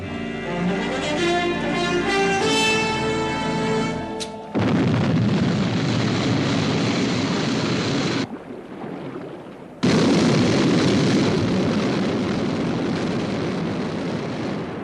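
Sky 1 aircraft lifting off in a science-fiction setting: a loud, steady roaring rush of engine thrust that cuts out briefly partway through, then resumes at full strength, preceded by a ringing tonal electronic chord.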